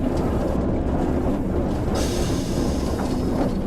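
Train slowing under the direct brake in Train Sim World on the Tees Valley Line, a steady loud rumble of wheels on rail with faint clicking and a low mechanical hum throughout, no voices.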